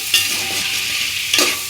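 Tomatoes stir-fried over softened onions for duck curry make a steady close sizzle, with two sharp spatula scrapes against the pan, one near the start and one near the end.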